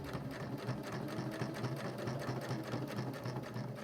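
A sewing machine stitching an opening closed along the edge of a small scrap-fabric notebook cover, a steady, fast, close mechanical whir of needle strokes running without pause and without talk.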